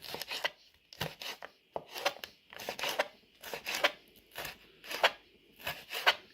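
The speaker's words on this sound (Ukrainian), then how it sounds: "Перець я теж файно почистила і нарізаю всяку соломку." Rhythmic knife chops strike a cutting board while cutting bell pepper into strips, about two per second, crisp and close, with quiet pauses between strokes.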